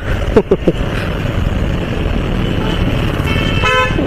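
Busy road traffic in Nashik, a steady rumble of engines with a few quick car horn toots near the start and a longer tonal horn blast toward the end, close and fairly loud.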